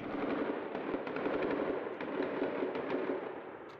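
Distant, rapid bursts of gunfire from an armed clash with police crackle continuously, echoing through streets.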